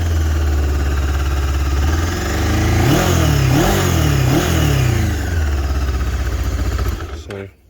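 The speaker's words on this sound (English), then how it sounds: "Starts up nice, runs smooth." A 2001 Honda CB500S motorcycle engine runs steadily and loud up close, with a few brief revs lifting the tone midway before it cuts off at the end.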